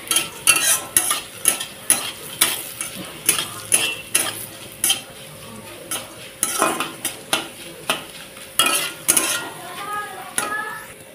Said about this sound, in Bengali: আর আলুগুলো কিন্তু মচমচে হওয়া শুরু হয়ে গেছে পুরো একদম।